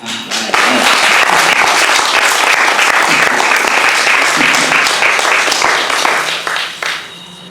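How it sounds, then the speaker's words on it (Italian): An audience at a live tribute event breaks into loud, dense applause that holds steady for several seconds before tapering off, with a voice briefly audible beneath it. "Applausi."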